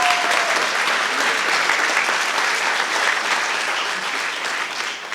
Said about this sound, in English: Give him another warm round of applause.